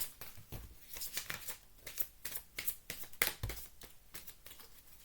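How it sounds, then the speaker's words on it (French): Tarot cards being shuffled and drawn by hand, a run of close, crisp papery riffles and slaps with brief pauses between them, no voices. "Alors, on va prendre une dernière carte."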